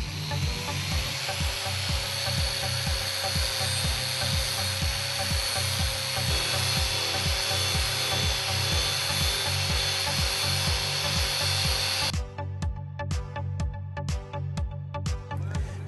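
A Big Buff grinder with a Quick Step disc at 7,000 RPM shaves down a weld on a flat surface, giving a loud, continuous grinding whine with a rhythmic pulsing scrape that changes character near the end.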